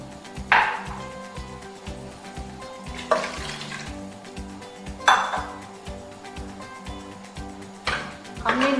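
Marinated chicken wings and half a cup of water go into a cooker: a few sharp clanks and splashy clatters of pot and utensil stand out over a low rhythmic hum, with faint speech in the background.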